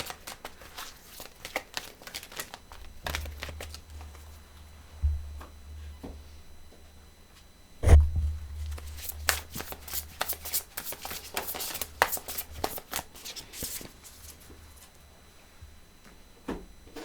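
Tarot cards drawn from several decks are shuffled and handled, making soft riffling and flicking bursts with a few louder thumps, close and fairly quiet, with no voices.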